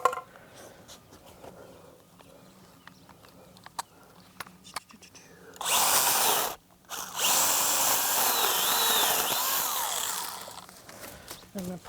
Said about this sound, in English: Like this one, I think I'm going to cut out, but I'm going to use my little chainsaw.